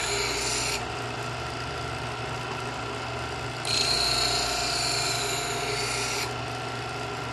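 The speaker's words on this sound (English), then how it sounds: "When the knife hits the wheels, you want to start the sharpening process." A knife is drawn through the wheels of an Edgeware adjustable-angle sharpener, giving two close, loud gritty rasping strokes separated by a quieter gap, over a low steady background hum.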